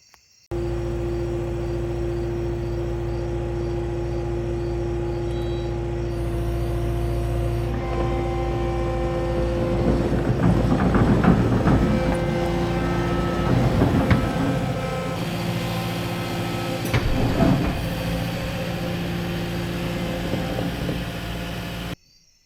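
A skid steer engine drones steadily with a constant tonal hum, while clanks and rattles rise in the middle as the machine drives off, fairly loud and with no talk.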